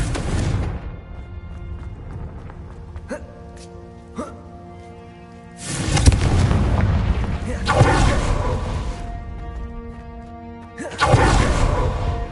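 Confringo fire-spell blasts in the Hogwarts Legacy video game, three loud booming bursts with crackling tails a few seconds apart over a droning game score, with a voice shouting the spell.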